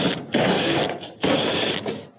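Two sustained bursts of a power driver backing out 1/4 inch screws from a panel around its perimeter, each whirring for about a second with a short pause between, close and fairly loud.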